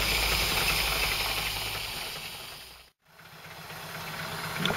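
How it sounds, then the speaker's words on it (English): Land Rover Series engine idling slowly after carburettor tuning, a close, steady low hissing idle with a soft rhythmic knock, briefly dipping to near silence midway before picking up again. "Obviously I'm not going to leave it idling that slow"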